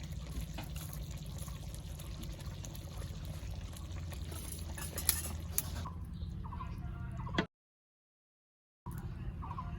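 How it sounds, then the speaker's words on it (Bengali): Saffron-soaked milk water being poured into a pot of basmati rice biryani, a soft close trickling pour with light clinks that runs for several seconds, then a brief silence before faint kitchen sounds return. "এরপর দেব দুধ দিয়ে কেশর ভিজানো জল"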